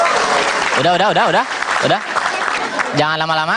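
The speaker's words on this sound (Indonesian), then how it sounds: "Boleh tepuk tangan buat gua?" Applause from an audience at a televised stand-up comedy show fills the short stretch, steady and broadband, with people talking over it throughout.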